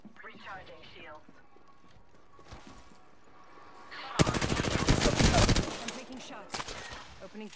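Apex Legends gunfire erupts in a dense, rapid automatic burst lasting over a second, loud and close, with game voice lines spoken before and after.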